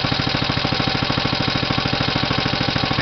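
An old 1937 Briggs & Stratton Model H small engine, likely off a mower, runs close by with a fast, even chuffing beat, loud and steady throughout and with no voices.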